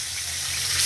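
Eggs sizzling in hot oil in a pan over a gas flame, a steady, dense, hissing fry that holds close and fairly loud for under a second.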